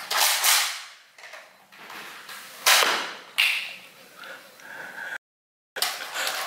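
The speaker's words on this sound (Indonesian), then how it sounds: "Ini namanya Nerf Trick Shot. Bentar. Kita tembak." A Nerf Trick Shot toy blaster fires foam darts, several sharp snapping pops with short whooshes spread across the clip, close and fairly loud, with a brief dropout near the end.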